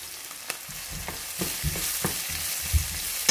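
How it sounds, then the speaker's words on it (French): Coarsely chopped onion frying in a pan, a steady sizzle broken by a few soft knocks and scrapes as it is stirred, with no one speaking. "Et on va commencer par faire revenir l'oignon coupé grossièrement."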